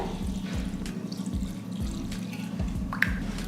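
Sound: water poured to rinse vermicelli

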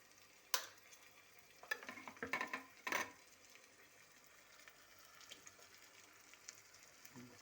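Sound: eggs added to pan frying for egg fry

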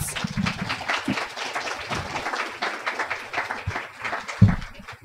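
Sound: round of applause for the panelists

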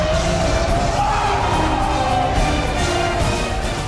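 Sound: stadium crowd cheering heard from the tunnel

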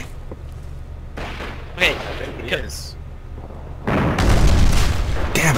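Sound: artillery firing and shell explosion in video game Foxhole

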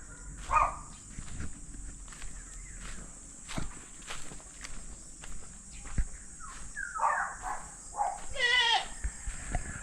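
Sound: goat bleating

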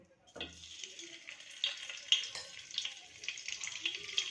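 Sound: butter melting and sizzling in a hot kadai

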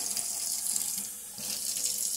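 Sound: hot water running from tap into sugar mix

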